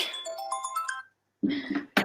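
A phone rings during a film festival Q&A session, its melodic electronic ringtone tones bright and close, cut off briefly by a pause, followed by a short burst of someone talking and another chime starting.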